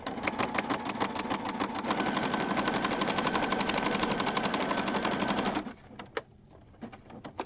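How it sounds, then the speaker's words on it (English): A sewing machine stitches around the outside edge of a handmade junk journal, running fast and steady for about five seconds before stopping, followed by a few faint clicks. "we're going to sew around this outside edge, and then we're going to sew around the bottom here"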